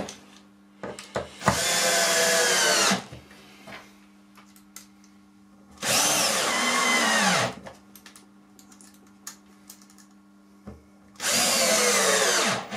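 Power drill driving 40x30 screws into wood, three long whirring bursts of a couple of seconds each separated by quiet pauses with small clicks and handling noises, close and loud.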